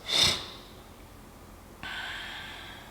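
Deep breathing during a gentle flexibility stretch: a sharp, fairly loud close intake of breath at the start, a quiet pause, then a long, steady, softer airy exhale that carries on to the end, with no talking.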